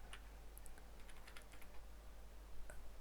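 Keystrokes on a computer keyboard while writing code, a quiet run of light clicking taps in irregular bursts, close and faint, with no talking.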